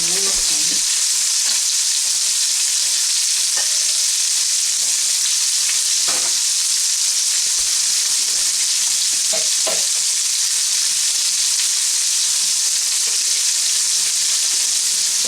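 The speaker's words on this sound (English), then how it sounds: "Okay, so we're going to add our shrimp." Shrimp frying in butter in a pan, a steady loud sizzle filling the whole span with occasional stirring clicks and scrapes, no voices.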